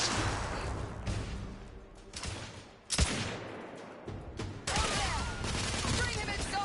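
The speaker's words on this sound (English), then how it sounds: "Lay down suppressive fire!" Dense suppressive gunfire in the video game The Order 1886, rapid overlapping shots and bursts crackling loud and close across the whole stretch, with a brief lull before the barrage surges again, voices partly buried underneath.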